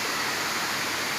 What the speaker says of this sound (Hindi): ये कितना बेहतरीन शीशे की तरह ये पानी देखें गिर रहा है आके नीचे प्रेशर में